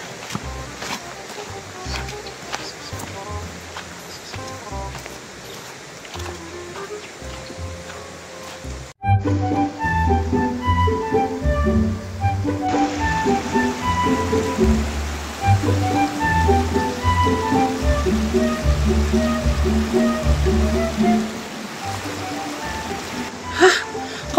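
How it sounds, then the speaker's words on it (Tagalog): Hikers wade across stream water on a Mt. Pinatubo day hike; steady rushing and splashing water, louder and closer after the first few seconds, with voices talking at times. "Tumatawid kami ngayon sa mga tubig-tubig"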